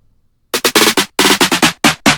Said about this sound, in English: So I'll show you the snare roll I came up with that I had right before the drop.